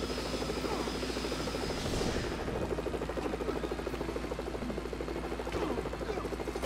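A helicopter in the LEGO Batman 2 video game, a continuous rotor chop and engine drone holding steady and fairly loud throughout, with no talking over it.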